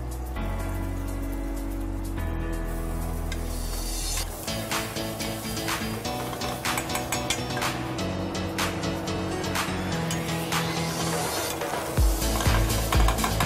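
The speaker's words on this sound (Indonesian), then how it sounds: "Oke, sekarang kita akan tumis yang sudah dihaluskan di cincang." Ground spice paste sautés in a hot pan, a steady crackling sizzle with repeated spatula scrapes and taps on the metal that grows louder and denser near the end.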